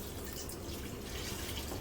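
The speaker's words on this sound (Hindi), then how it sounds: "2 कप पानी डाला है" Water is poured into a pressure cooker holding mutton, a steady, quiet splashing stream with no voices.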